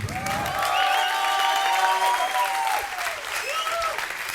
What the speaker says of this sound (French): si vous pouviez, s'il vous plaît, mais un tonnerre d'applaudissements pour l'encourager